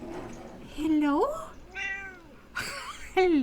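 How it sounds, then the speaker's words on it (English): A cat meows several times in short, rising and falling calls, close and clear, with a person talking around it. "Meow."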